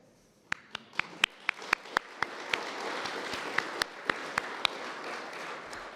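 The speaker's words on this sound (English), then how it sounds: "That's worthy of applause, I agree." Applause from an awards ceremony audience, a dense wash of clapping that swells and holds steady, with sharp, evenly spaced louder claps standing out above the crowd at roughly quarter-second intervals.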